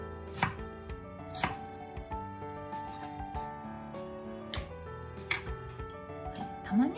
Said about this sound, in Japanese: 7-8mm ぐらいの幅ですかね、ちょっと大きめに切っておきます。